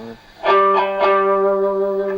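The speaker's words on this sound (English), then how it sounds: "you can also use them straight, in which case they make quite a mellow sound" Several electric guitar notes picked with the flat face of a coin in quick succession, ringing with a warm, mellow, rounded tone that sustains evenly.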